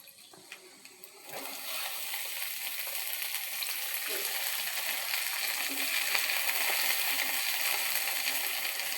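A steady frying sizzle of mixed greens and vegetables in a pan starts after a short quiet moment and continues evenly, a broad hiss with small crackles, close by and without talk.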